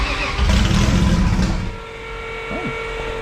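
A Chevrolet Camaro engine starting after the fuel pump is switched on, the starter cranking roughly before the motor catches, then dropping to a loud steady idle close by.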